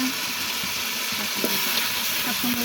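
Ground spices, ginger-garlic paste, onion paste and dried chili paste sizzle and fry steadily in a pot as the base for cooking a goose, a continuous close hiss with faint stirring clinks and no talk.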